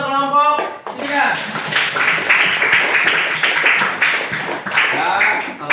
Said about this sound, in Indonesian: Tepuk tangan untuk kelompok ketiga.